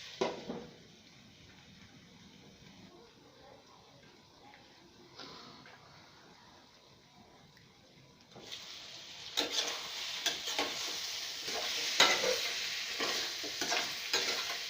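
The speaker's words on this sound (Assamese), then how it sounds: "লৰাই দিছোঁ আকৌ।" Pumpkin and paneer fry in a pan as a spoon stirs them, with a steady hiss that grows much louder and brighter partway through, alongside repeated scraping strokes close by.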